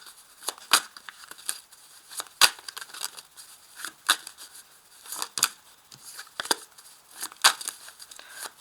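Scissors cut through a Rider-Waite tarot card deck in a series of crisp, close snips, irregularly spaced and fairly quiet, with no talking.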